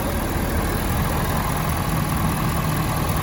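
A 2020 Ford F-250 4x4 Lariat with a 6.7 liter Powerstroke diesel engine idles in a steady, rumbling drone, heard close and constant throughout.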